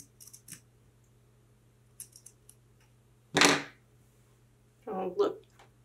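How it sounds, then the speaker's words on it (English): Scissors snip into shirt fabric close to a ruffle while sewing a placket, giving a few short crisp cuts, one loud burst near the middle and another pair near the end, with quiet gaps between. "Put your scissors between the ruffle and the shirt."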